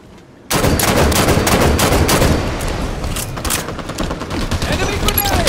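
Dense, continuous gunfire from the Halo video game fills the clip after a brief quiet start, loud and sustained with overlapping rapid shots and bursts, and voices can be heard in the mix.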